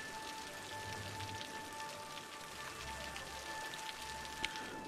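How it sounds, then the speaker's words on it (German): Steady rain in the city-builder game Cities: Skylines, a continuous hiss of drops on surfaces with a low rumble swelling underneath, filling the whole stretch evenly with no talking. "Ja, zum Glück regnet es ja."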